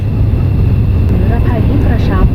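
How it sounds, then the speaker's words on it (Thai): Inside an airliner cabin descending toward Bangkok's Suvarnabhumi Airport on a flight from Luang Prabang, a loud, steady low engine rumble fills the space, with a voice talking over it. "ตอนนี้ เครื่องบินก็ได้ลดระดับลงเนาะ ลดระดับต่ำลงไปเรื่อยๆเพื่อจะลงสู่สนามบิน"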